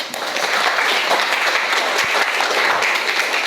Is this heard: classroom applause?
yes